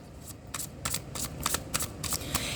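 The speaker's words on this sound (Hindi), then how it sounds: "last shuffle" Tarot cards shuffled by hand, a close run of quick riffling bursts repeating at a steady rhythm, with no talking over them.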